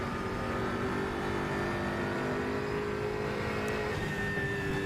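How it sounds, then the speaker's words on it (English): A BMW DTM race car in the RaceRoom racing game holds a steady, loud engine drone at high revs, close up and continuous, with no voices and no distinct exhaust bang standing out. "Explosion out of the exhaust every time you change gear sounds pretty good."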